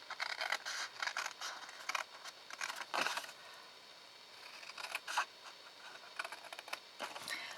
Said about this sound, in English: Then you're going to just cut down to that score line that we made